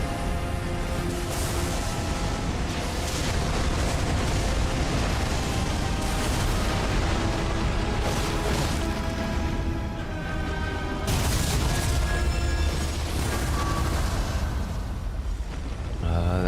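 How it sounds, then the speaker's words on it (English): A massive explosion in the video game Elden Ring: Shadow of the Erdtree, with dense, sustained booming rumbles, a fresh blast partway through, and game noise filling the whole stretch. "That's a big ass explosion"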